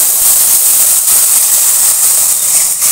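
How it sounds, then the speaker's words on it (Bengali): Amchur-soaked water poured over fried fish in a pan seasoned with panch phoron, giving a loud, steady steamy hiss and sizzle that fills the short moment without talk. "এবার দিয়ে দেবো এই যে আমচুর ভেজানো জলটা"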